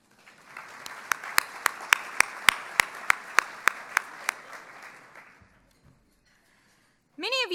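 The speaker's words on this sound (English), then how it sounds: "Give yourselves a round of applause." A conference audience claps steadily for several seconds, with sharp individual claps rising above a dense wash of applause before it fades out; a voice begins speaking right at the end.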